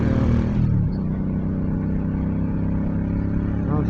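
A car is driven into town, its engine and road noise forming a steady, loud, low rumble heard from inside the cabin, with no one talking.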